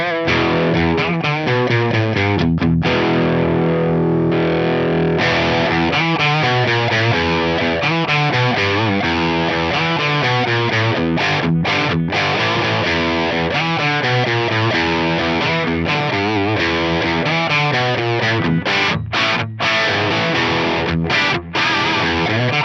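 A crunchy overdriven electric guitar plays chords and riffs through a Marshall TSL100 amp on a low-gain crunch channel with a Boss SD-1 overdrive pedal, loud and sustained, with brief pauses between phrases.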